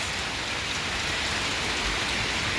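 Rain pouring down in a countryside yard, a continuous full hiss of drops drumming on surfaces, steady throughout and heard alone.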